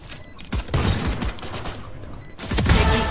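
Sovereign Ghost pistol shots in Valorant during a round-ending ace, a string of sharp reports over busy game effects and mechanical clatter, with a quieter gap before a final loud burst.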